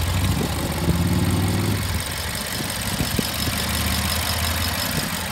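A BMW X5 M engine idles with a smooth, steady low hum and faint periodic pulsing, running evenly at close range with no talking.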